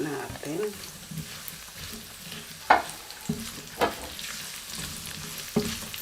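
Onion frying and being stirred in a wok, a steady close sizzle with several sharp scrapes and clanks of the utensil against the pan.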